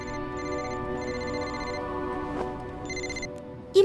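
A telephone rings with repeated electronic bursts in a steady pattern, moderately loud and alone, with no talk over it.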